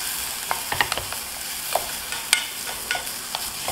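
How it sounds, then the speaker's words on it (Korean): Garlic, onion, carrot and celery sizzle and stir-fry in a pan for a minestrone sauce, a steady hiss with scattered scrapes and clinks of stirring, close and alone. "마늘 색깔 잘 보시고 그 다음 양파 투명하게 볶아주시고 양파 색깔이 좀 투명해졌다면 당근 넣어줍니다"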